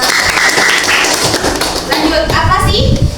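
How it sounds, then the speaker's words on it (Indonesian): Students in a classroom lesson clap for a classmate, producing a short burst of scattered hand claps and taps mixed with children's voices and an adult speaking. "Kita beri tepuk tangan untuk Naswa."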